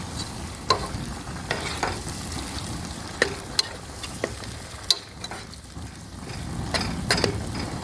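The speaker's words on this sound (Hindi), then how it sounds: "प्याज ब्राउन हो गया था, इसके बाद हमने इसमें टमाटर ऐड किए। इसको अच्छी तरह मिक्स कर लेंगे।" Browned onions and added tomatoes fry in a pan while a spoon stirs them, producing a steady sizzle punctuated by irregular sharp scrapes and clicks against the pan.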